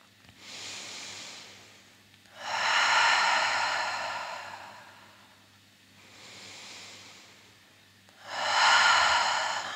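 Slow, deep breaths during a yoga vinyasa practice, close and soft, alternating long airy inhales and exhales in an even rhythm with pauses between them.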